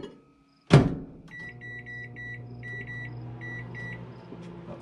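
A microwave oven starts with a sharp thump, then hums steadily while a series of short electronic beeps repeat in small clusters above the low drone.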